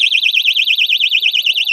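A motion-sensor bike U-lock alarm sounds a loud, warbling electronic tone that rises and falls rapidly and evenly, alone and close.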